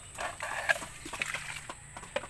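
A brooding brown egger hen clucking nearby, with short irregular throaty clucks and rustling over a faint background hum, and no voices.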